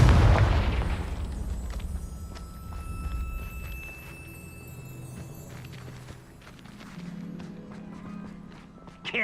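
A Confringo fire spell bursts in Hogwarts Legacy with a deep boom at the very start that fades into a rumbling tail, followed by quieter footsteps and ambient game sounds.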